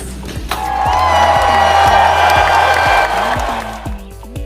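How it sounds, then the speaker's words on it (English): Crowd at a college English debate competition applauds and cheers for a Hospitality Management section team, a swelling burst of clapping with a sustained tonal whoop, moderately loud and fading out. "A round of applause, please."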